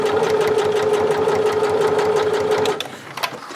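A sewing machine stitches slowly around the curved edge of a round fabric bag, a steady close mechanical whir of rapid needle strokes that stops near the end, followed by a few faint clicks.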